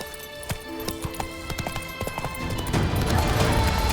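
Roach, the horse in The Witcher 3, gallops with steady, close hoofbeats clip-clopping over background game music, the pace and ground noise building toward the end.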